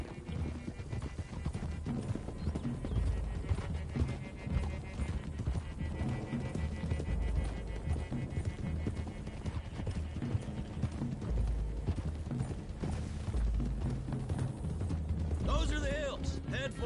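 Horses gallop along a hill road in the Red Dead Redemption 2 game, a busy stream of hoof clip-clops with a whinny near the end, mixed with game sounds and music.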